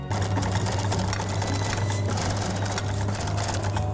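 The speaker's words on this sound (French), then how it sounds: "C'est une couture qui passe sur le dessus, donc l'aiguille va piquer sur le dessus, comme ça." An overlock sewing machine runs fast and steadily, stitching a seam on a French-made technical suit, a close, loud mechanical whirr with a low hum and a rapid needle rattle.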